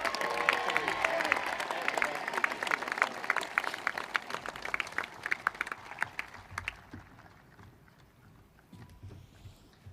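Audience applause at a high school graduation ceremony, a dense crowd clapping through the first part and then thinning and fading toward the end, heard at a distance with no talk over it.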